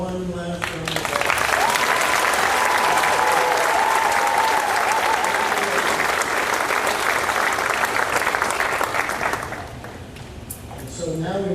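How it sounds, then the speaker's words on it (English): Sustained applause from an audience at a senior awards night, loud and steady for several seconds before tapering off as a voice begins over it. "if we can give them all one last round of applause"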